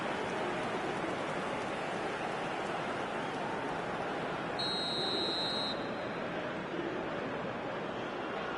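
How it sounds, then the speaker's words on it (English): A referee's whistle blows once, a single sustained tone for about a second, signalling half-time in a FIFA football video game, Portugal versus Argentina, heard over a steady roar of crowd noise from the stadium. "And the whistle goes for half-time."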